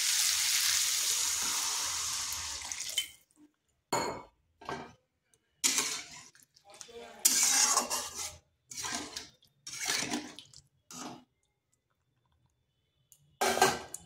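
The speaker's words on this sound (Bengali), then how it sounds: "এখানে দিয়ে দিচ্ছি গরম জল।" Hot water hits a vegetarian gathi kochu taro curry as it fries, a loud close hiss and sizzle for a few seconds that stops abruptly, followed by short, separate bursts of stirring and scraping in the pan.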